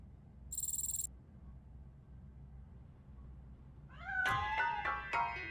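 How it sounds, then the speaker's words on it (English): In RoboCop Rogue City, a cat hidden inside a piano gives a few clear, close meows in quick succession after a short high chime, over quiet background. "That cat must be hiding inside."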